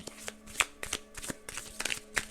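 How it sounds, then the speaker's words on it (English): Tarot cards shuffled by hand, a quick run of papery riffles and soft slaps in bursts, close and fairly quiet, with no talk. "let me shuffle these. Let's shuffle them good."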